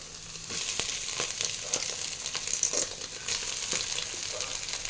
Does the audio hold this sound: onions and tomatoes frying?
yes